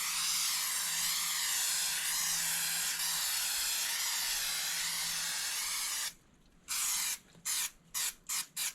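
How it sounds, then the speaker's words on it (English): Spray adhesive hisses from a can onto Black Gold film strips over a subfloor, first a long steady spray of about six seconds, then a run of five short bursts, close and fairly quiet. "we will use our spray adhesive"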